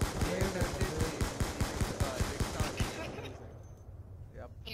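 Rapid hip-fire gunshots in a first-person shooter video game, a quick rhythmic string of close, sharp automatic shots for about three seconds before trailing off into quieter game sound.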